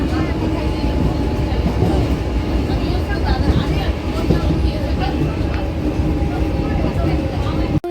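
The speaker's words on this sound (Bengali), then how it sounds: "গোপালনগরে ঢুকছে এখন ট্রেন" The Ranaghat–Bangaon local train rumbles steadily close by as it pulls into Gopalnagar station, a dense low mechanical roar with rattling carriages that holds at a constant loud level throughout.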